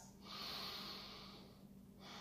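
Deep, intentional yoga breathing: a long, airy exhale through the nose held for over a second, then a short pause and the start of another breath, close and quiet.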